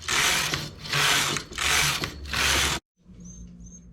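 A knitting machine works a collar in bursts: four loud, rasping carriage passes back and forth, each about half a second, then a sudden stop into quieter mechanical ticking.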